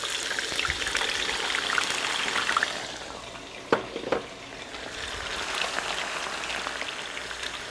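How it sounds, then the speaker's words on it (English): Steady crackling sizzle of potatoes deep frying in ghee in a wok, continuous and close, with a couple of brief clinks in the middle. "We're going to deep fry these in our wok."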